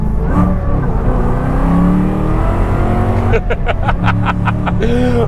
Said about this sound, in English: Let's drop it into third, we'll drop it into second.